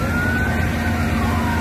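A fire engine siren wails steadily at a hospital fire, heard continuously and fairly loud over a dense rumble of surrounding traffic and commotion.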